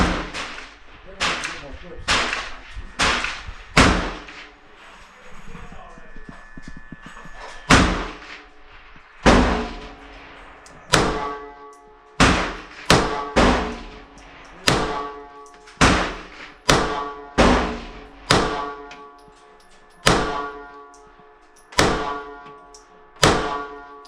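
A Beretta 80X Cheetah pistol fires at a shooting range in a long series of sharp, loud reports, some in quick pairs and others spaced a few seconds apart, each followed by a brief echoing decay.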